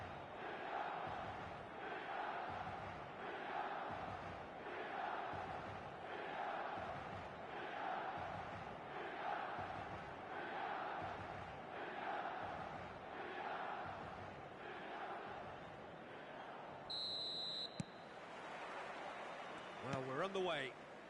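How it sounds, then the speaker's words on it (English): Stadium crowd atmosphere from the eFootball soccer video game, an old-style stadium with fans close to the pitch: a steady, rhythmic roar of chanting and cheering fills the whole stretch, with a faint whistle-like tone near the end. "An intimidating atmosphere in the crowd, a crowd so close to the pitch here in this old-style stadium"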